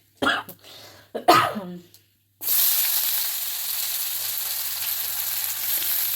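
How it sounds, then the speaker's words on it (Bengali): Chopped onions hit hot oil already seasoned with cumin seeds and bay leaf, bursting into a loud, steady sizzle that holds for several seconds after a few brief throat sounds and a short silence. "পেঁয়াজগুলো একটুখানি হালকা করে লাল করে ভাজা হবে"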